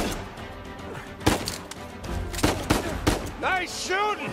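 Gunfire in Uncharted 4: a few sharp, isolated shots cut through a busy game scene, with speech-like voices and other action sounds around them toward the end.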